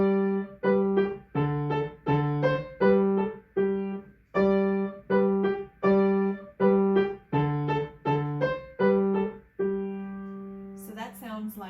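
Piano plays a repeated tonic and dominant accompaniment in the low register, short detached chords in a steady pulse, close and clear, with a brief higher sound at the end.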